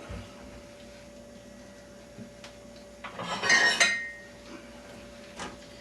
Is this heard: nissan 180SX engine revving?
no